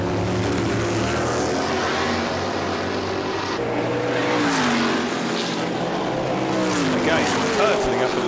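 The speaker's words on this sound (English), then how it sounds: "here he comes then with the Huffaker Genie GT40 and the Smith's car" Vintage race cars, including a Huffaker Genie Ford GT40 V8, roar past during a historic full race, their engines rising and falling as they sweep by under excited commentary.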